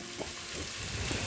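Garlic fries in a pan for a meat sauce, giving a soft, even sizzle that stays faint and steady throughout.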